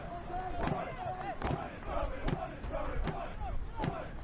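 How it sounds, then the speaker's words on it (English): A crowd at a men's university soccer championship quarter-final, Carleton Ravens against UBC Thunderbirds, sings and chants in a rhythmic, rising-and-falling chorus with rhythmic thumps, heard at a moderate distance. "You can hear the crowd starting to sing. They're chanting for a goal."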